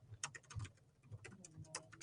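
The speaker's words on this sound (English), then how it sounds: "I'm just typing." Rapid, uneven clatter of keys on a computer keyboard, quiet and close, in steady bursts of taps with brief pauses, no voices over it.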